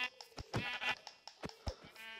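Minecraft sheep bleating in a game session, several short nasal bleats in quick succession, fairly close and clear, with no talk over them.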